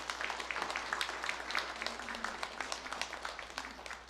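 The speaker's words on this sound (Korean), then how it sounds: "우리 격려의 박수 한번 보내겠습니다" Church congregation applauding in encouragement for a deacon standing during a Sunday worship service, a steady wash of many hands clapping at moderate distance through the whole stretch, with some faint speech mixed in.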